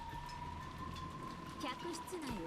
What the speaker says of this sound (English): Even the quiet sound of the rain was distracting.